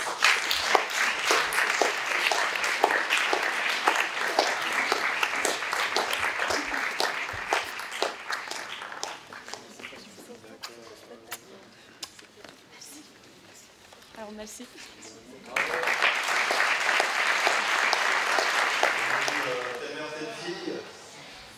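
An audience applauds at a Swiss TV broadcast, with steady, dense clapping, a quieter lull in the middle, then a second loud round, and a voice speaking briefly.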